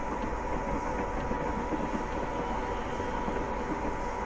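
Class 87 electric locomotive running in Train Simulator Classic while climbing a 1 in 100 gradient out of Glasgow Central, a continuous steady rail rumble with soft rhythmic wheel clatter and no voices.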